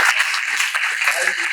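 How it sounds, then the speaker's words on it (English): Audience applause in a Mumbai education talk hall, a short burst of dense, steady clapping filling the space at full volume. "A huge clap for the women of the country."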